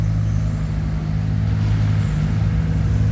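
A Cat E70B excavator's engine runs with a steady low droning hum while its hydraulic pump is tested at under half throttle, loud and continuous with no talking.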